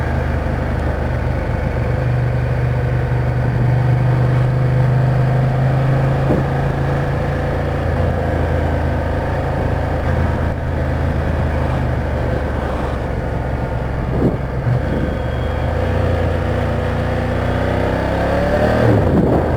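A 2016 Ducati Diavel Carbon motorcycle engine drones steadily while riding, with rising throttle swells toward the end, loud and continuous with wind noise.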